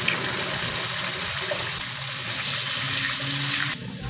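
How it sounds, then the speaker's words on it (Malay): Water pours steadily into a pan of cooking sauce for a Malaysian three-flavour jenahak fish dish, a continuous close splashing stream that cuts off abruptly near the end. "Letak air sedikit."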